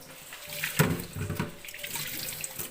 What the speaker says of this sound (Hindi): ये देखें, साथ साथ मैं बर्तन भी धो रही हूँ।